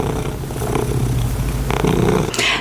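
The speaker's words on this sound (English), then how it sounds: "if you guys hear purring in this video" A cuddly cat lying on a lap purrs loudly and close up, with a continuous low rumbling rhythm and a brief rustle near the end.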